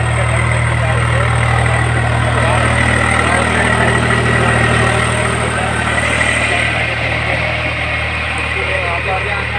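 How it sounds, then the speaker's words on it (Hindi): A tractor drives a rotavator to till a paddy field before rice transplanting. Its engine drones loudly and steadily with a deep low hum and a rough mechanical rattle throughout. "यहाँ पे हमारा ट्रैक्टर चल रहा है और रोटावेटर से जुताई हो रही है।"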